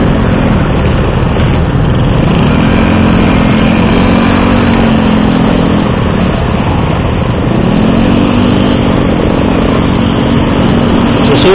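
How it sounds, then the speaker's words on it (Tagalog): A Suzuki Hayabusa motorcycle engine runs nearby at a steady idle, with a continuous loud hum that rises and falls slightly in pitch a couple of times. "Suzuki Hayabusa."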